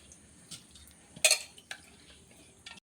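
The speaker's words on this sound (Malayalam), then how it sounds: "മസൂർ ദാൽ ഒരു കുക്കറിലോട്ട് ഇട്ട് കൊടുക്കാം" Washed masoor dal tipped into a pressure cooker: a few scattered metallic clinks and knocks of a spoon and pot, one sharp clatter in the middle, fairly close with quiet gaps between, no talk.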